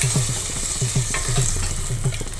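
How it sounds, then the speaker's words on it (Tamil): Cashew nuts fry in hot ghee for pumpkin payasam, a close, steady sizzle broken by repeated rhythmic scraping of a spoon stirring the pan. "நெய் காஞ்செடுத்து முந்திரி பருப்பை வறுத்து போட்டுடலாம்."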